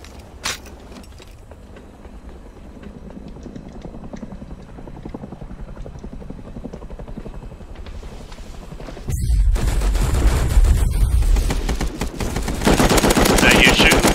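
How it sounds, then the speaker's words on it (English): Automatic gunfire in the survival game Rust rattles in rapid bursts, faint and distant at first, then growing much louder and denser halfway through, with a helicopter drone blended underneath. "Is that you shooting?"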